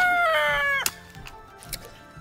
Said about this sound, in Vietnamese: đàn gà của mình nó rất là thích ăn con trùng các bạn, con giun đó